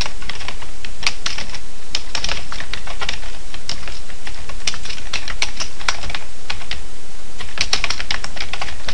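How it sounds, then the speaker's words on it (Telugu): Steady, close keystrokes on a computer keyboard as text is typed into a Microsoft Word document, with clicky taps in uneven bursts and a few louder key strikes, no voices. "ఇక్కడ ఎగ్జాంపుల్గా నేను కొంత టెక్స్ట్ని టైప్ చేస్తాను"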